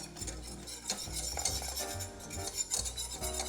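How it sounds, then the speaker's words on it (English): Flour stirred into a soup base for cream of broccoli soup, with a spoon scraping and knocking steadily against the pot in a repeated rhythm over a faint sizzle, close and fairly quiet. "We're gonna stir this in, and we're gonna let the flour cook for about a minute or so."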